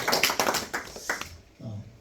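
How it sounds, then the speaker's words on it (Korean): A short burst of applause from a small group at a meeting, several quick claps fading out after about a second, followed by a low murmur. "박수."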